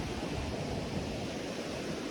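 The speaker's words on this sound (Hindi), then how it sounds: "इतना तेज पानी का फ्लो है, प्रेशर इतना है ना पानी में, और इतना कुछ बह के जा रहा है इसमें।" Fast floodwater rushing through a swollen river in Kullu-Manali, a dense, steady roar of churning water filling the whole clip, close and unbroken, with no voices.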